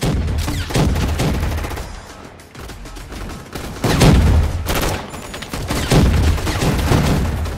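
Machine gun fire rattles in bursts in a Roblox video game, loud and close, with rapid repeated shots broken by short pauses and a couple of heavier booming volleys.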